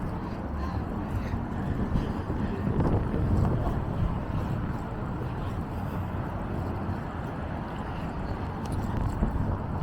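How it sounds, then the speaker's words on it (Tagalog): Wind gusts outdoors at night in Manchester, a continuous low roaring rumble buffeting the microphone with no distinct breaks. "Ngayon humangin."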